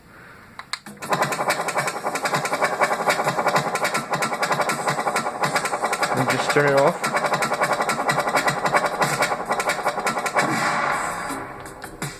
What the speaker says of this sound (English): I made a minigun that works. It shoots quote-unquote bullets. It has a muzzle flash, it has noise